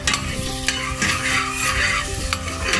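Garlic and onion sauté in vegetable oil over high heat, a loud, dense, continuous sizzle with brief stirring bursts, close up and alone.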